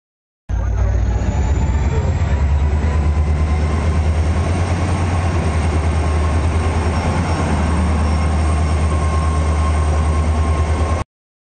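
A passenger train bound for Guwahati pulls into a station with a loud, continuous rumble and a steady low drone that holds from start to finish, then cuts off.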